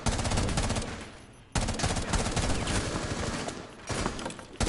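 A fast-firing gun in a PS4 video game, a dense, loud rattle of rapid shots in two long bursts with a brief break between them.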